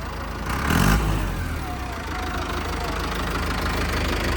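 A Swaraj 744 tractor from Mohali chugs steadily at idle, a loud, continuous rough diesel rumble with a brief louder burst near the start.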